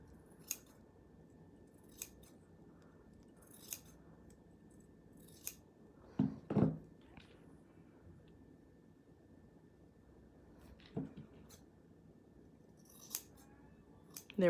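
Scissors snip repeatedly while upcycling jewellery into a pendant, sharp isolated cuts spaced a second or two apart with a louder cluster midway, close and otherwise quiet.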